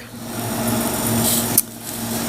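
The small electric motor of a roller belt grinder hums at a steady, close whine, interrupted briefly near the end by a sharp click before the running tone resumes.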